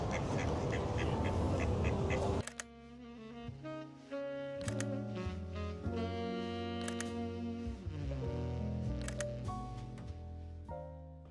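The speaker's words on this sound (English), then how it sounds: "It's making duck noises." A duck quacks outdoors in late-day sun, a string of nasal honking calls with clear repeated tones, loud and close, rising and falling in bursts with no talk over them.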